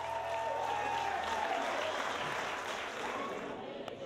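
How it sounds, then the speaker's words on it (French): A live show audience gives a band a steady wash of applause that holds for several seconds and tapers slightly at the end, with a voice faintly underneath. "On applaudit."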